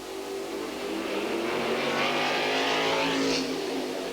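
Historic racing cars, including a Chevron B16, Lolas and a Martin, lapping the circuit at a 1990 golden-age Grand Prix: a loud, continuous roar of engines passing close by, rising and falling in pitch with no voices.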